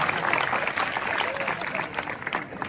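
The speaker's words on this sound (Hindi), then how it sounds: "एक बार इन सास बहू के सम्मान में ताली बजाओ।" Audience applause at a Hindi kavi sammelan poetry recital, a steady dense wash of clapping that holds at an even level for the whole stretch, with faint crowd murmur mixed in.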